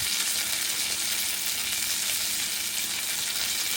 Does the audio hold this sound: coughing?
no